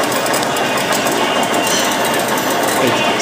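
An antique needle-making machine running in the Bohin needle factory gives a loud, steady mechanical clatter and hum that fills the space without a break, heard up close.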